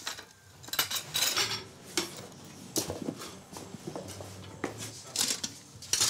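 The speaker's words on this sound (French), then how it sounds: "Il y a des casseroles." Cooking pots and cutlery clank and scrape in a small home kitchen in DR Congo, with repeated close metallic knocks and rattles in irregular bursts.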